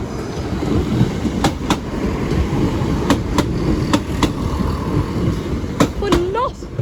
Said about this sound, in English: And there's a train approaching on the other line.